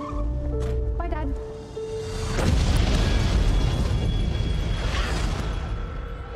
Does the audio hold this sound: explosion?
yes